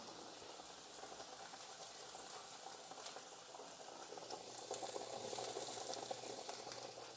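Sausages bubbling and simmering in a pot for spaghetti, a faint, steady boiling hiss that swells slightly toward the end, with no voices.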